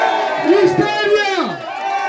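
A crowd of elderly people at a Christmas celebration in Riosucio, Caldas, shouting together in a loud, sustained chorus of overlapping voices with rising and falling pitch.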